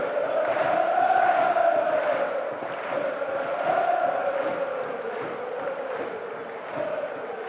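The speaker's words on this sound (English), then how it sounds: "a loud cheer across Fratton Park." Football crowd at Fratton Park during a Portsmouth v Middlesbrough Championship match, a loud sustained roar and cheer swelling across the stadium, steady and broad with surges of voices throughout.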